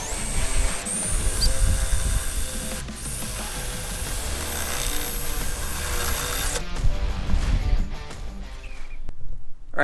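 A power drill whines and grinds steadily at close range while mounting lights on a Toyota Tacoma, the pitch shifting as it bites into material, then stops abruptly near the end.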